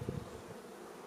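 Honey bees buzz steadily around an opened hive during an inspection, a close, continuous drone that is a little louder at the very start and holds level through a brief moment with no talking.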